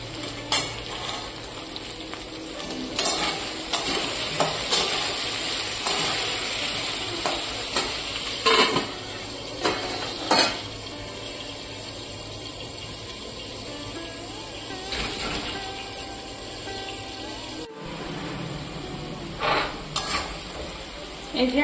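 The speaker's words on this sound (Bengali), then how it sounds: "একটু লবণ দিয়ে দিলে কিন্তু তাড়াতাড়ি ভাজা হয়ে যাবে।" Salted potatoes frying in plenty of oil, a continuous close sizzle broken by repeated spatula stirs and scrapes against the pan.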